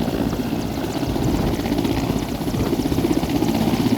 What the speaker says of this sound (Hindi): हेलीकॉप्टर से रेस्क्यू ऑपरेशन भी चल रहा है